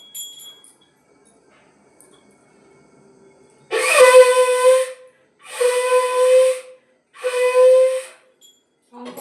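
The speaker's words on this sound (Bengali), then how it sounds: "শঙ্খ বাজিয়ে দিলাম।" A conch shell blown at a Hindu puja for Sri Sri Thakur Anukulchandra in a temple, sounding three loud, sustained, reedy blasts in a row, each lasting about a second and a half.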